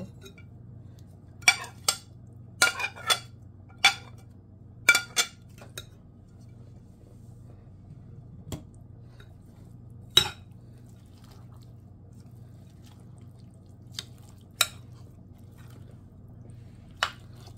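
A spoon clinks and taps against a bowl in scattered bursts while thick vegetable batter with coriander leaves is mixed, with quiet pauses between strokes over a faint hum.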